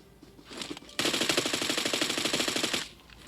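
Automatic gunfire in the battle royale video game PUBG, a loud, rapid, steady burst of shots lasting about two seconds, preceded by a few fainter sounds.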